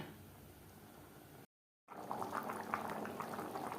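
Rohu fish curry with bean seeds and fish head simmering in gravy in a pot, a close, steady bubbling boil that breaks briefly and returns louder with dense popping bubbles.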